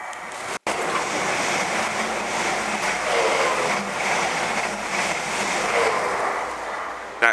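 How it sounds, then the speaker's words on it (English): A train speeds past about five feet from the corner of a house at close to 110 mph, a loud, steady broadband roar with wind-like rushing that stays at full strength throughout, cut by one brief dropout near the start. "That train is about 5 foot from that corner and probably doing about 110 miles an hour."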